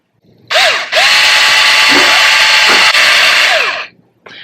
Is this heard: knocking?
no